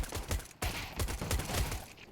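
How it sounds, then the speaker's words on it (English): Dense rapid gunfire from a Counter-Strike esports match on the Vertigo map, several bursts of overlapping shots in quick succession, loud and continuous. "Drewski going to get the initial frag there onto JT."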